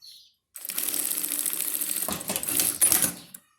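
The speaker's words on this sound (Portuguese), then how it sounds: "Vai juntando uma parte na outra e vai costurando." A sewing machine runs in a quick, continuous mechanical rattle as pieces of a wallet are stitched together, close and moderately loud for about three seconds, then ends in a few uneven clacks.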